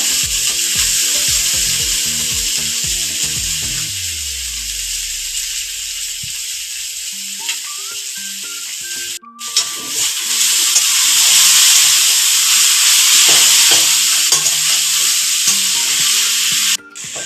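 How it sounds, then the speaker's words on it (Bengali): Chowmein fries in a pan with a loud, continuous sizzle, overlaid with rhythmic stirring scrapes and knocks, briefly broken by a short pause before the hiss returns full strength. "এবার সব রেডি হয়ে গেছে এবার চাউমিন দিয়ে দিতে মানে রান্না হয়েই এসেছে"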